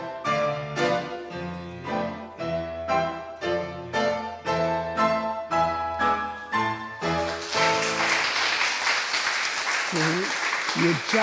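A voice makes rhythmic, repeated tonal sounds for several seconds, then a burst of clapping breaks out, a bright, dense patter that carries on to the end.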